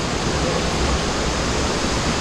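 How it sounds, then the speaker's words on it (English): A waterfall roars in a dense, unbroken rush of white noise, loud and close, with no other sounds. "I wouldn't go over that waterfall though"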